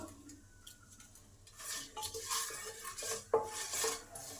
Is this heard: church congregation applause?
no